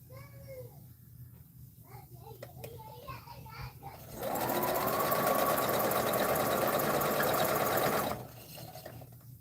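A sewing machine stitches a quilt block, running in one steady close whir for about four seconds. Quieter handling noises and a voice come before and after the stitching.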